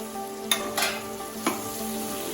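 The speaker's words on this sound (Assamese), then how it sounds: "এনেদৰে আকৌ লৰাই থাকি আমি ইয়াত 10 মিনিটলৈকে এতিয়া সিজিবলৈ ৰাখি দিম" Chicken meat stirred and frying in a pan, a steady sizzle with a few brief scraping stirs near the start and middle, close and moderately loud, with no talking.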